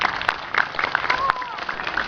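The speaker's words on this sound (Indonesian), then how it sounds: "Tepuk tangan semuanya." Audience applause at an Indonesian Independence Day religious sermon gathering: a steady wash of crowd clapping for about two seconds, with a voice audible over it.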